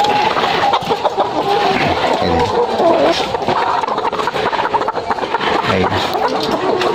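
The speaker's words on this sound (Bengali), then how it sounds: "এই দেখেন মুরগিগুলা" A flock of laying hens on a farm clucks and chatters continuously, busy and noisy, with overlapping calls filling the background.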